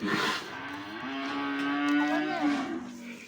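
Calves moo on a Turkish farm, one long drawn-out bovine call rising and holding before trailing off, loud and close with no talk over it.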